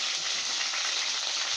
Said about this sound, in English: brown it first, guys. Fry it first and then you cook it down